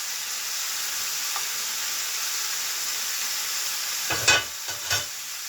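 Chicken sears in a hot pan with a steady hissing sizzle, then a few louder scrapes and bursts near the end as the pieces are moved or turned. No one speaks.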